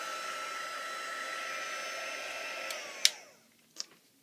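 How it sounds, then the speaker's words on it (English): A heat tool blows a steady, hair-dryer-like rush of air over embossed cardstock, then clicks off and fades out, followed by a small knock. "let's get the heat tool out and we will go ahead and get this started"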